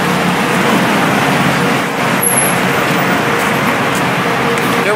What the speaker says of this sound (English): I think I see my bus coming